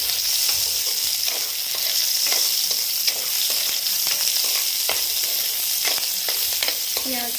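An egg fries in a pan while chicken Maggi is being made, producing a loud, continuous hiss and crackle of hot oil, punctuated by sharp spatter pops and occasional utensil clicks.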